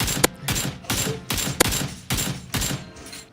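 Bursts of rapid automatic gunfire in a video game, six or so short volleys in a steady rhythm, loud and close.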